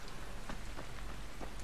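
Steady soft rainfall in the zombie survival game Dying Light, a faint continuous hiss with a few slightly stronger gusts of drops, heard alone without talk.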